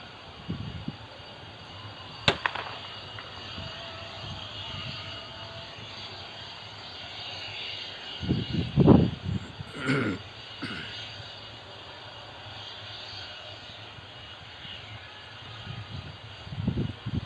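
A distant military jet's engine drones steadily as it runs down the runway for takeoff, swelling into a louder roar midway, with scattered clicks and thumps nearby.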